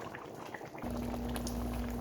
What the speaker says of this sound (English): the cassava leaf has been boiling for like 10 to 15 minutes